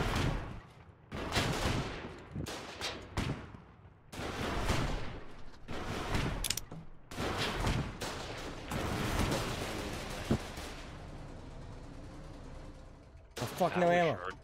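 Heavy gunfire and explosive tank-gun blasts in the video game War 99, a run of loud booming shots and bursts close up, some overlapping, easing into a quieter stretch before a final burst.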